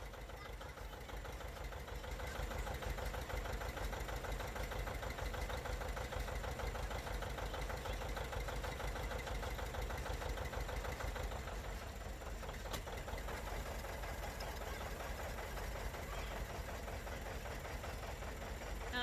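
A John Deere two-cylinder tractor, just repaired, idles on a winter day with a steady, low, chugging rumble that continues evenly throughout, heard from a moderate distance.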